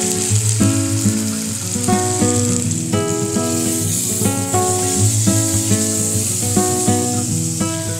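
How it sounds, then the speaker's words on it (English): Pork sears in a hot pan with a steady, close sizzling hiss that runs the whole time beneath prominent background music. "I'm going to flip it and flip it and flip it so that it gets nice and seared on all sides."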